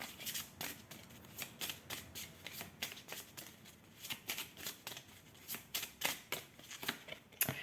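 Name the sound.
handling and laying out tarot cards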